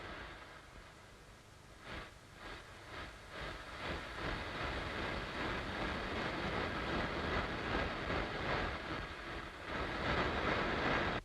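A cartoon train running along, a rhythmic clickety-clack with a hissing rush that builds slightly louder toward the end, with no voices over it.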